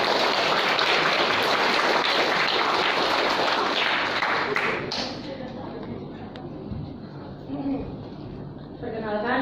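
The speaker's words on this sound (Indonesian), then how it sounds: "Ya, kita tepuk tangan untuk kawan kita." A crowd of school students claps steadily for several seconds, then the applause thins out and fades into scattered taps and room noise.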